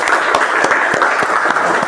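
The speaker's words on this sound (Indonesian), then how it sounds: "Tepuk tangan untuk kita semua." A class of teachers claps together in a brisk, steady burst of applause during a lesson, close and lively, with no talking.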